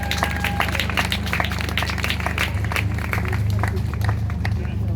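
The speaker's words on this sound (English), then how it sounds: "Yourself a round of applause" A crowd at an Extinction Rebellion rally, the Northern Rebellion, claps steadily and densely, with a low hum and murmuring voices mixed in.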